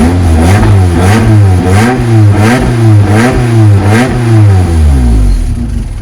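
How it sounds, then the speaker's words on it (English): A Toyota MR2 engine with a blowing exhaust revs loudly in repeated rhythmic bursts, its exhaust pulsing, sputtering and popping with each rise before settling low. "Exhaust blowing."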